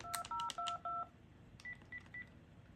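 Telephone dialing tones from a Uniden D1660 phone: four quick beeps in a row, a short pause, then three fainter beeps, clear and alone.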